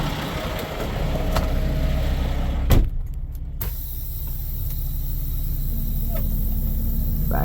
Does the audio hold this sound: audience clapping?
no